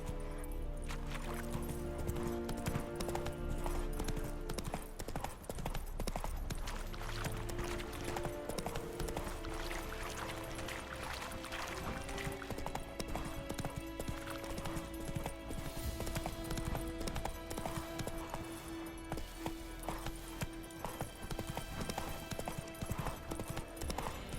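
Horse hooves clip-clop in the video game The Witcher 3: Wild Hunt, a steady, rhythmic trot heard faintly and without pause. Game music and ambience play underneath.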